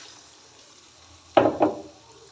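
Water poured into a mixer jar while making an egg sambar in a home kitchen: two short splashing bursts, close and fairly loud, against a quiet background with no talk.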